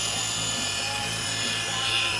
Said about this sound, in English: we're back in business with the electric drill